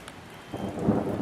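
Thunderstorm with rain, passing to the south and east at sunset: a steady wash of rainfall with a low rumble of thunder building toward the end, moderately loud with no voices.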